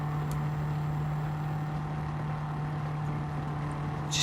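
A historic sports car engine in Gran Turismo 7, racing at Willow Springs, holds a steady, even drone at constant throttle, with a slight rise at the very end and no talk.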